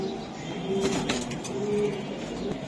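Soft, low cooing from a male pigeon beside another pigeon, a steady murmuring coo that repeats and stays close, with no voices over it.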